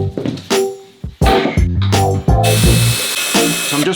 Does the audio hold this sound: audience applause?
no